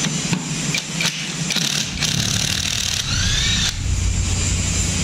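A Hanomag R55 tractor engine running close and loud, a steady mid-pitched rumble with a few brief surges and clunks over the continuous drone.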